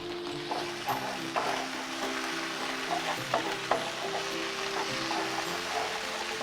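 Pepper and kidney beans being stir-fried in a hot pan, a steady sizzle broken by frequent scraping and clacking stirring strokes, close and moderately loud with no talking.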